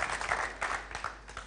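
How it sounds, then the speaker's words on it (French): Applause from a studio audience on a talk show, a short burst of scattered, fairly quiet clapping that rises and fades in uneven waves. "Merci beaucoup pour vos applaudissements très spontanés."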